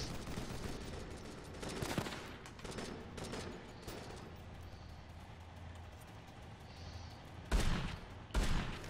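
Bursts of turret gunfire in a first-person shooter game, rapid overlapping shots with a busy mix of game noise throughout and two sharp loud blasts near the end.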